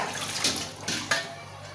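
Cold drinking water poured in a home kitchen, a steady wet rush broken by a few sharper splashes and clinks, close and fairly loud with no talk.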